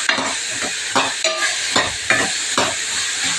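Food frying in oil, with a loud close sizzle and about seven rhythmic scraping stir strokes in quick succession.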